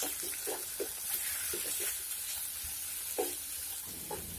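Diced potatoes sizzling in hot oil in a pan with green chili paste and ginger-garlic paste being added, a steady close frying hiss broken by several soft stirring scrapes.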